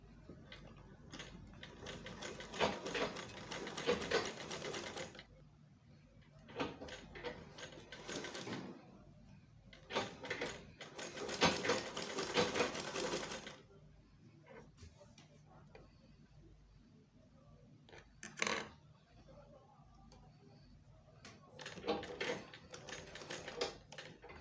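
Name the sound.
sewing machine stitching a shirt collar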